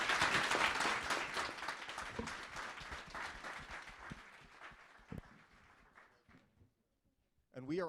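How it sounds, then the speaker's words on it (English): A conference audience at a blockchain summit applauds its panelists, steady clapping from many hands that thins out over several seconds before a voice resumes at the end. "Please join me in giving our panelists a round of applause."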